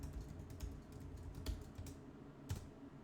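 Quiet, steady clatter of keys on a computer keyboard, with a few slightly harder keystrokes standing out against soft background hum.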